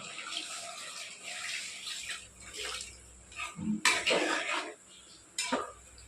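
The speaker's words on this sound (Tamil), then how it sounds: "இப்போ இந்த சமயத்தில் நம்ம தண்ணி ஆட் பண்ணிடலாம்" Water poured into a pot of mutton curry while it cooks, with splashing bursts and a running pour alongside clinks of utensils against the pot, close by and uneven in rhythm.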